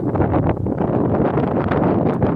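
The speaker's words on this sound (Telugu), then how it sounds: "గాలి ఎక్కువ ఉంది ఇక్కడ" Strong wind buffets the microphone in a continuous loud roar, gusting slightly throughout with no other clear sounds.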